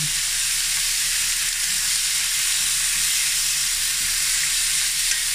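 Chicken pieces fry in a pan without oil, rendering in their own fat as they brown, giving a steady, close, even sizzle that holds unbroken throughout with no voices.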